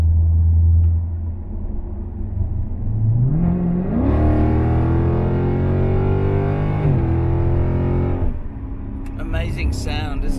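A Dodge Challenger SRT V8 rumbles loudly from inside while cruising, swelling into a rising rev before settling back to a steady drone, with brief talk near the end.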